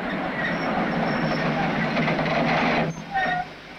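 A train running on rails at the Turkish-Soviet frontier in 1964, a loud, steady rumbling roll with faint clicks and brief squeals near the end.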